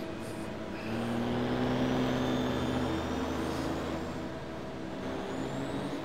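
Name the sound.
racing truck engine in Formula Truck video game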